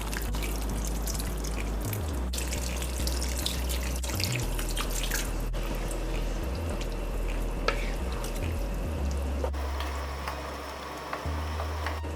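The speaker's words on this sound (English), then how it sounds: "Now I'll add boiling water for the rice to cook." Boiling water pours into a pot of rice on the stove for a Guyanese cook-up with provisions and peas, a steady splashing, bubbling stream close by that runs the whole time with no talking.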